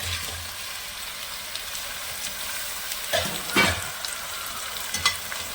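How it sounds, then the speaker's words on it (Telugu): Squeezed ridge gourd pieces fry in a pan with onions, green chillies and curry leaves, giving a steady close sizzle with a few louder stirring scrapes near the end, and no voices. "ఇప్పుడు మనం బీరకాయ ముక్కలు పిండేసిన బీరకాయ ముక్కలు వేసేసుకుందాం"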